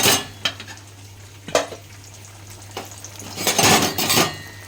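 Cooked egg and new potato curry is scraped out of a pan into a bowl in a small kitchen. A metal spoon clinks and scrapes against cookware in a few sharp knocks over a low steady hum.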